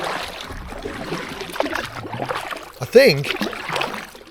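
A carbon fibre kayak paddle dips and pulls through the water in soft, repeated splashing strokes close by, with a person talking over the paddling.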